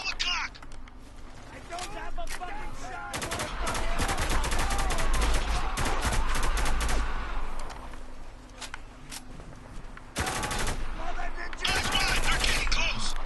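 Rapid bursts of gunfire in the video game Spec Ops: The Line, sustained volleys of automatic shots crackling loudly and densely for several seconds, a brief lull, then another heavy barrage near the end.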